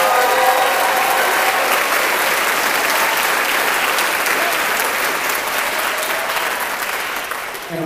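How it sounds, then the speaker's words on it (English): An audience claps loudly and steadily at a high school choir cabaret concert, a dense crowd applause that tapers gradually toward the end. "Can we give her a round of applause, please?"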